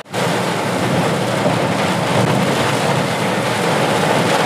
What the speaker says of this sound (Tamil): இப்போ அவங்க மழை பெய்யுது.